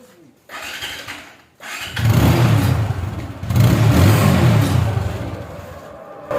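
A car engine with a loud noise fault starts and then revs hard in two long, close surges, roaring loudly between quieter moments.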